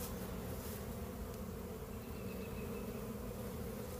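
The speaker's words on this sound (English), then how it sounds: "It's a lot of bees." Honey bees swarm over a hive comb in a dense, steady buzz that holds close and loud throughout, with no voices over it.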